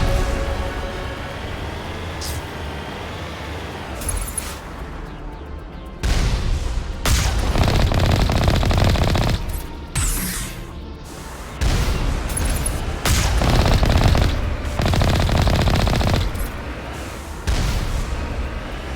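Heavy turret fire booms in repeated bursts in Mass Effect Legendary Edition, with loud blasts separated by brief lulls and a low rumble underneath as the Mako rover drives toward a Geth base.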